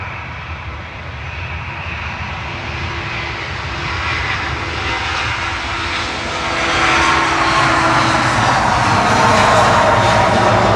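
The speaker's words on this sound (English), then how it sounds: "Departing now. Ryanair 737-800." Ryanair Boeing 737-800 departing Manchester Airport for Shannon, its jet engines a loud sustained roar that swells as it climbs away, heard alone without voices.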